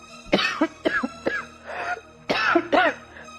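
A series of harsh, throaty coughs in quick bursts, about six in all, close and fairly loud with short pauses between them.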